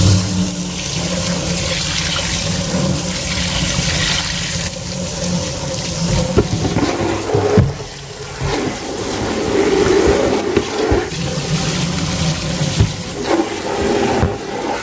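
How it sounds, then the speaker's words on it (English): Running water rinsing out a sink, a steady flowing rush with occasional splashes and knocks, continuous and fairly loud throughout. "then from there I rinse my sink out"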